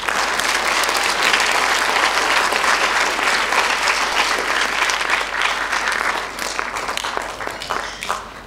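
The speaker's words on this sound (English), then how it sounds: "I would love it if you would give yourselves a round of applause" A school speech day audience claps for itself in loud, dense, sustained applause from a large crowd, tapering off slightly over the last couple of seconds.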